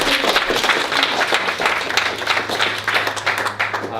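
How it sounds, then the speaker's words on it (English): Sustained applause from a small audience at a talk: busy, uneven hand clapping with sharp individual claps, continuous for about four seconds under a low steady hum. "Clap it up for him real quick."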